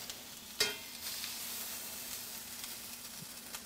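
Lobster tail laid into a pan of hot garlic herb butter: a sharp sizzle bursts up as it goes in, then a steady, fairly quiet frying hiss carries on alone.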